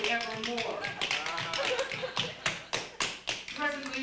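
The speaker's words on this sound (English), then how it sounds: "You disturb me with your tapping." Tap dancing on a floor at a TV show: crisp, rapid rhythmic taps and shuffles close by, heard under a person singing a lyrical song, with taps growing sharper toward the end.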